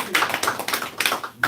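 A handful of claps from a small audience at a debate session honoring the speaker, a few sparse, uneven hand claps over a brief moment, fairly close and moderate in level.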